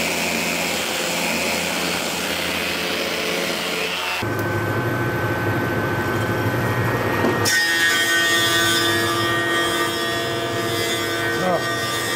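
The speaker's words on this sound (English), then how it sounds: "Planing it down." A wooden cutting board being planed down, a rough continuous rasping and scraping that changes character twice as the strokes shift, close and fairly loud throughout with no clear pauses.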